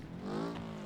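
A damaged car in BeamNG.drive, its steering busted after a hard landing, gives a loud, steady exhaust drone, holding at one pitch for under a second with no voices.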